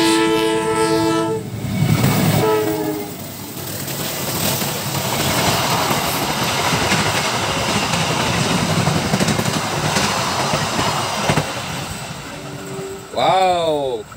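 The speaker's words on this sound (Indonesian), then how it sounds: "itu ada kereta. Keretanya sudah datang." A toy Thomas-style train set with CC202 and CC205 locomotive models runs along its track with a steady rattling rumble. Loud tonal horn blasts sound near the start, with a rising electronic horn near the end.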